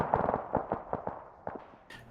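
Rapid bursts from the main cannon of an Mi-28 Havoc attack helicopter in Arma 3, a string of sharp, fairly close reports in an uneven rhythm, tailing off toward the end with a brighter noise burst.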